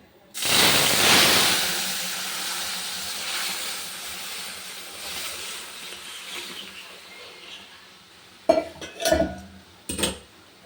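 Lentils tipped into hot tempered oil in a pan give a loud burst of sizzle and steam hiss that slowly fades into a steady bubbling simmer, followed near the end by a few sharp clinks of utensils against the pot.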